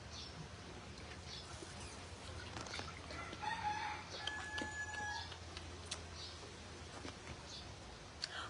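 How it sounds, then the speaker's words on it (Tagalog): A chicken clucks and crows at a distance, faint calls rising over a quiet outdoor background with scattered small clicks and rustles. "Manok."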